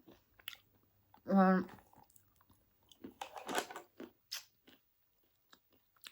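Honey-roasted snack being eaten, with crunchy bites and chewing close to the microphone, mixed with a brief hum and some talking.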